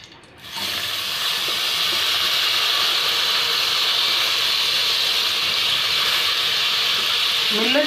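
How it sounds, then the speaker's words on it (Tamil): Washed millet roasting in ghee in a pan, a steady broadband sizzle and hiss that starts abruptly and holds loud and even throughout. "நம்ம நல்லா கழுவி வச்சுருக்கிற அந்த திணையை வறுத்துடணும்."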